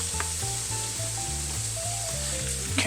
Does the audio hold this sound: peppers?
yes